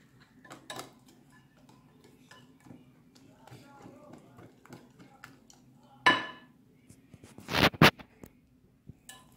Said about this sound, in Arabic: انا باقا كنحرك حتى كنجمعوا كاع الطحين ديالنا